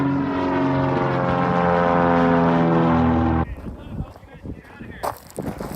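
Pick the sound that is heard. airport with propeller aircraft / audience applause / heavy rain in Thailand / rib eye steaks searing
airport with propeller aircraft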